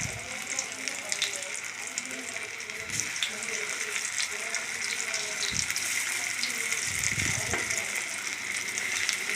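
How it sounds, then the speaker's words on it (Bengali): Vegetarian ol (elephant foot yam) kofta balls frying in hot mustard oil in a kadai on a gas stove, a steady bright sizzle running throughout with a few soft clunks as pieces are dropped in or moved. "তেল গরম হলে কোপ্তাগুলো একটা একটা করে তেলে ছেড়ে দিলাম।"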